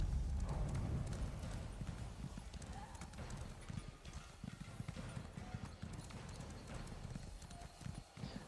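A horse's hooves gallop in The Elder Scrolls Online, a fast, continuous clip-clop that stays steady and close for several seconds, with a voice talking faintly underneath.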